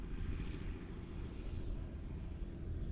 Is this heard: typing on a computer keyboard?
no